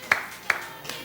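Church congregation at a Wednesday worship service giving a few sharp, separate claps in quick succession, fairly close and brief.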